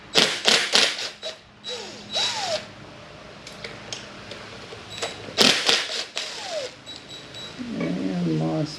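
Two 10mm bolts are removed from the front brake line splitter on a vintage Kawasaki H1/H2 motorcycle: loud bursts of ratcheting and clicking tool work, with squeaks and clinks between them.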